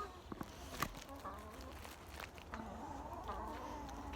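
Backyard flock of chickens with a rooster, clucking softly and intermittently at close range amid scratchy rustling and steps, over a steady low outdoor rumble.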